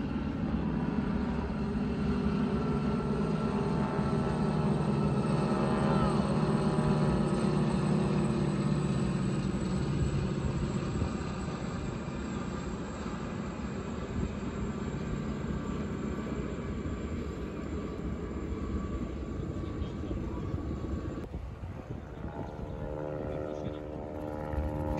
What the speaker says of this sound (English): And my favourite aircraft up there is that Stinson.